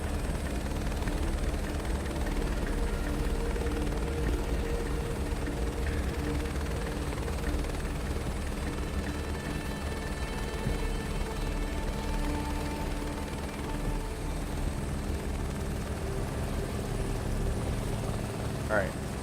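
Helicopter rotor and engine in Microsoft Flight Simulator 2024 drone steadily with a low throbbing hum and faint whine, winding down as the machine shuts off, while a person talks over it.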